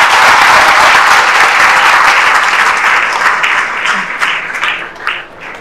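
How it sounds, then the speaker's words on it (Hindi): Audience at a student Android app presentation breaking into loud, sustained applause, dense clapping from a large crowd that gradually tapers off toward the end. "नीरज झा और सौरभ दोनों के लिए एक बार जोरदार ताली"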